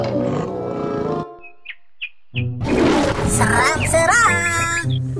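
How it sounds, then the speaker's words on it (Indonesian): A tiger roars loudly and close, a long rumbling growl rising over a busy cartoon-like mix of music, squeaks and a brief speaking voice. "Ternyata ada harimau."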